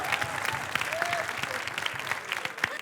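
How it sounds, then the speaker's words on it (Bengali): An audience claps at a celebrity guessing game show, a steady dense round of applause lasting the whole stretch, with voices mixed in underneath. "ওর জন্য সবাই তালি"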